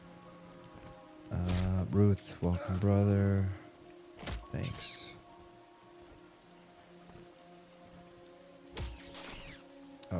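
Steady rain hisses across the ground in the online fantasy role-playing game Monsters & Memories, a soft, constant wash that runs through the whole stretch beneath nearby voices talking.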